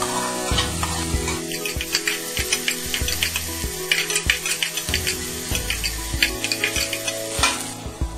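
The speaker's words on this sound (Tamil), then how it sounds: "இது கூட ஒரு அரை வெங்காயம் நீளமா நறுக்கின வெங்காயத்தை போட்டு நல்லா வதக்கிக்கோங்க" Garlic and onion sautéing in oil in a pan for Chinese-style vegetable spring roll filling, with steady sizzling and repeated spoon scrapes and stirring clatter throughout, close and fairly loud, with no talking.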